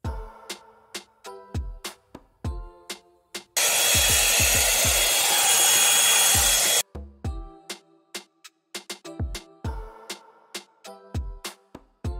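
A hot air brush blows steadily for about three seconds on its cool-air setting, a loud airy whoosh. Sharp clicks and taps come before and after it.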